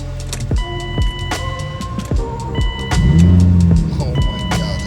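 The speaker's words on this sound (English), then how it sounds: "Oh my god, this car is loud," A cheap older BMW car starts up close by after some clicks and thumps: the starter cranks briefly, then the engine catches into a loud, rough roar that settles into a steady running rumble.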